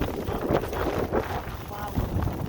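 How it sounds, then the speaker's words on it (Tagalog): Strong blizzard wind roars and buffets against the microphone in uneven gusts, loud and close, with a voice faintly mixed in. "Parang bagyo rin naman. Lakas ng hangin."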